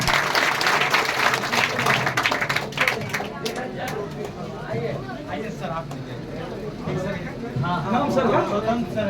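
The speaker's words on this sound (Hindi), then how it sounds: "जोरदार ताली" Steady applause fills a school award ceremony honouring class 10 toppers, a dense crowd clapping throughout, with a voice speaking over it.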